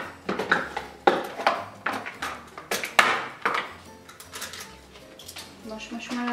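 Metal spoons and forks clink and rattle against each other in a home kitchen. The sharp, close clatters come in an irregular rhythm while a person talks over them.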